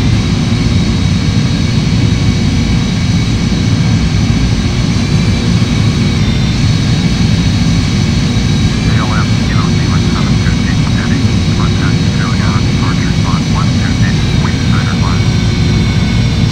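Jet airliner engines roaring at full takeoff power in the FSX flight simulator, departing Princess Juliana International Airport, a loud constant rumble with a steady high whine, and cockpit voices talking over it.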